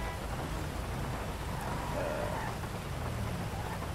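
In-game rain in the FiveM GTA roleplay game hisses on and on, a dense even wash of noise with no voices and no breaks.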